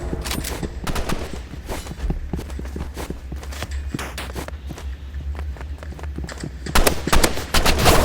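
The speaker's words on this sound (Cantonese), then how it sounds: "有狙擊槍殺咗我。" Sniper rifle gunfire in the shooter game Rivals, heard as sharp cracks scattered over steady footsteps and background game noise, with a louder cluster of shots near the end.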